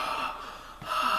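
One person breathing heavily and audibly close up, a long raspy inhale-exhale with a brief break partway through.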